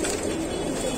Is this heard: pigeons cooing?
yes